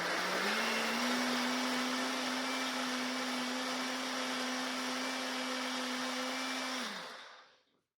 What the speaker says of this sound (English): we're just gonna put it right into a blender and let that get nice and smooth